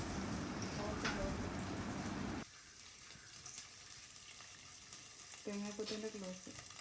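Coconut pieces sauté in oil in a pan, starting with a loud, dense sizzle that drops suddenly to a softer crackle after a couple of seconds, with brief voice-like tones near the end.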